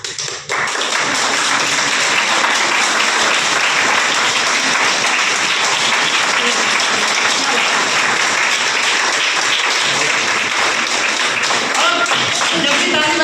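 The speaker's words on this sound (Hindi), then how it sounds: "अब वो लोग ताली बजाएंगे जो जवान रहना चाहते हैं।" An audience at a club venue inauguration claps hands in loud, sustained applause that fills the room nearly continuously, with faint voices mixed underneath.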